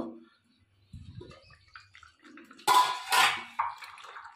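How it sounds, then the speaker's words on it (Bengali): A metal lid comes off a pot of simmering coconut dry chicken, a short clatter and scrape of metal followed by a burst of hissing steam and a clink, close and brief. "তো এবার আমরা ঢাকনাটা খুলে নেব।"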